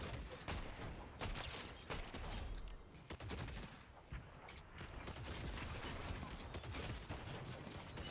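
Fortnite no-build match gunfire, a loud, dense barrage of overlapping shots and crackling bursts running steadily throughout, with a few sharper pops standing out.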